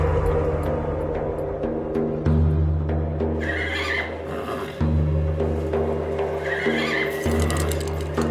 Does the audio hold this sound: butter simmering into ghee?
no